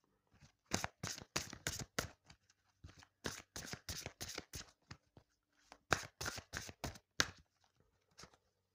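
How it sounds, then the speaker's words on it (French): A deck of cards being shuffled close up, in two quick riffle bursts of rapid, crisp flutters separated by a short pause, with near silence around them. "Ça ne va pas être très drôle d'attendre pendant que je bats les cartes."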